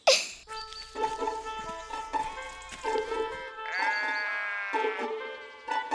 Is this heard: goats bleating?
yes